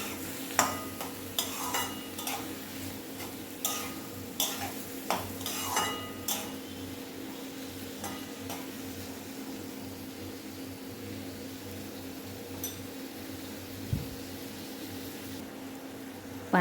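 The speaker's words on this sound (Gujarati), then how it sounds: "હવે આ ભાજીને આપણે 5 મિનિટ માટે આવી રીતે સાંતળીશું।" Gunda leaf greens (bhaji) salted and sautéed in a pan, with a steady low frying hiss under scattered clinks and scrapes of a spoon stirring against the metal, close by and moderately quiet.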